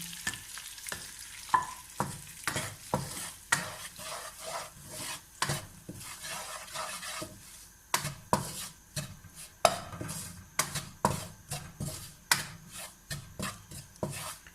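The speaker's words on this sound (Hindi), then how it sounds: "ये मैं आटा डाल के इसमें भून रही हूँ।" Wheat flour roasting in ghee is stirred in a pan, with repeated scraping strokes of a spoon against the metal over a low sizzle, close and rhythmic, with occasional louder clanks.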